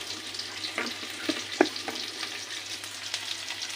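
Onions frying in a pan, a steady crackling sizzle with scattered pops and light stirring scrapes, close and moderate in level, no voices.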